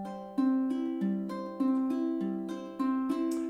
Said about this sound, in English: We're going to do some good old-fashioned Travis picking.